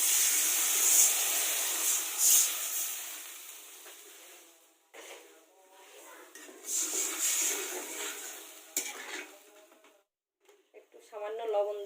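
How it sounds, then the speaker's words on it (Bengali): Water poured into frying spice masala in a pan for a Bengali fig (dumur) curry sets off a loud, close sizzling hiss that fades, then flares again in bursts, with speech alongside. "এখন আমি একটু জল দিয়ে দেবো।"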